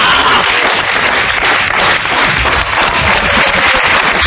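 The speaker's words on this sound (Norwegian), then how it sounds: "En applaus til Bård som prøvde seg på et med tvangstrøye" A studio audience at a Norwegian comedy game show applauds, a dense, loud and steady wash of clapping that carries on without a break.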